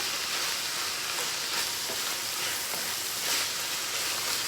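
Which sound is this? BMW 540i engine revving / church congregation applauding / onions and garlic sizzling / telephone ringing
onions and garlic sizzling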